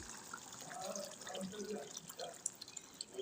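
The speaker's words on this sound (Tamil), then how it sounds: "இப்போ இதில் பால் ஊற்றுறோம் நான் ஒரு லிட்டர் பால் வச்சுருக்கேன் ஒரு லிட்டரை ஊற்றுறேன்" Milk is poured into a pot of partly cooked basmati rice payasam. A faint, quiet trickle and dripping of liquid runs throughout, with soft voices in the background.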